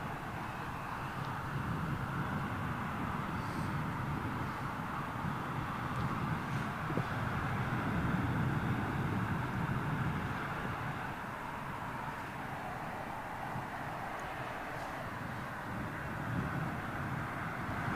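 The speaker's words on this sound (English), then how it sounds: "Looks like a Dreamliner up next." Boeing 787 Dreamliner at London Heathrow, runway 27L, a steady broad roar of jet engines held at fairly constant loudness throughout, with some wind noise and no talk.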